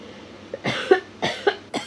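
A few short coughs in quick succession, close and fairly soft, with small gaps between them.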